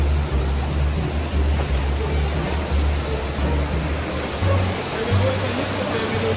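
Waterfall on the Rivière Noire hike in Guadeloupe, a steady broad rushing roar of falling water heard from some distance, continuous and even throughout.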